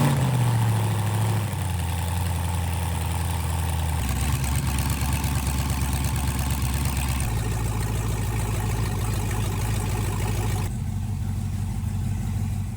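Corvette LS V8 swapped into a Porsche 911, running steadily with a deep rumbling idle that shifts pitch in a few distinct steps, loud and close with no talk.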